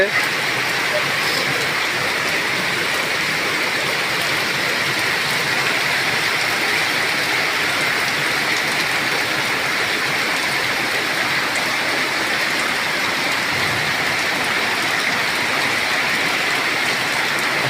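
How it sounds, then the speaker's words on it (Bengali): Heavy, continuous torrential rain pours in a dense, even roar that holds steady for the whole stretch, with no other sounds breaking through. "অবিরাম বৃষ্টি একই ধারায় ঝরছে"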